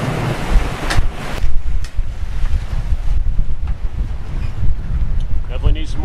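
Wind roars and buffets the microphone aboard a sailing catamaran making about 7.7 knots in roughly 14 knots of wind, a steady loud rush with water noise and brief talk.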